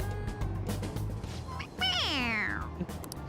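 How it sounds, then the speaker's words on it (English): A toy cat in the Persona 5 Royal video game gives one drawn-out, falling electronic meow when its head is pressed, set over game background music. "It meows when you press on its head."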